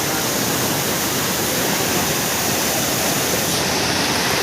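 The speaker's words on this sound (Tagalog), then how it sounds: "Ay, may falls siguro dyan sa baba na yan." A waterfall below a mountain roars as a steady, dense wash of rushing water, constant and loud throughout with no voices.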